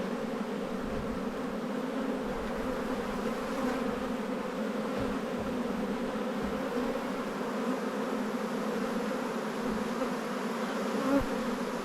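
Bees drone steadily around an open hive during an inspection of a large spring colony, a continuous close buzzing hum with no talking.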